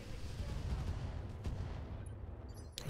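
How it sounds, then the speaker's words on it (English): Mortar fire in the mech video game RogueTech, a heavy low rumbling boom that fills the clip, with a dull thud partway through and a sharper crack at the end. "Stand still, take aim, mortar him up."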